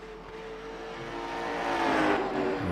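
A short-track race car at Five Flags Speedway works through a corner with the throttle feathered; the engine note rises and wavers, building gradually louder as the car comes closer.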